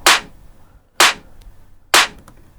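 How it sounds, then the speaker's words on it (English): Two clap samples layered into one harsh, nasty-sounding clap for an electronic track, struck three times at an even one-second interval, each a sharp bright crack with a short tail, alone with no talk. "so I went for a pretty nasty clap."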